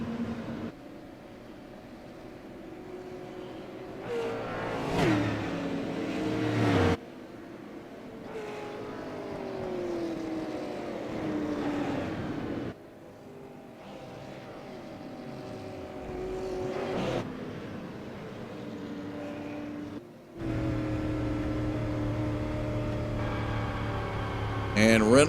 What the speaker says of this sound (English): And Reynolds coming up for a little victory burnout here